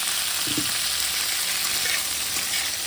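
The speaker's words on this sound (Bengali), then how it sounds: "কপিটা ভাজবো এখন দেখুন সুন্দর করে একটু ভাজতে হবে" Cauliflower florets fry in a hot pan with a loud, dense, steady sizzle that fills the whole stretch, plus a few soft stirring scrapes near the start.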